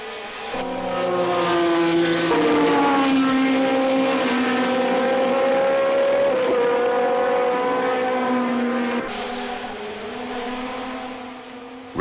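A pack of 1976 Ferrari Formula 1 cars roars away from the start, engines climbing through the revs in loud, overlapping whines with gear-change dips, sustained and close for about twelve seconds.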